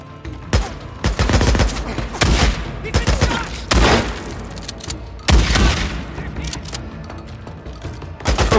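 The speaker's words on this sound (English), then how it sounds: "we're going in with a shotgun." Shotgun blasts in the zombie game Days Gone: heavy booming shots crack out repeatedly over a dense, continuous layer of game noise, with speech mixed in.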